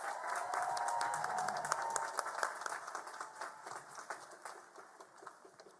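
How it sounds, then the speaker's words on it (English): Sustained applause from a large crowd at a college commencement ceremony honoring doctoral graduates, a dense wash of distant clapping that thins out and fades toward the end. "Please let us have another round of applause for our cohort of doctoral graduates"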